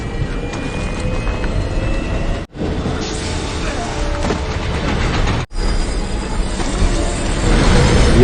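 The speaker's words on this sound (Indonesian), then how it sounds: "tetapi kereta tiba-tiba berangkat lagi" A train departing in a film scene, loud continuous rumble and rattle of rail wheels with faint squeals, close by, briefly broken by two short cuts.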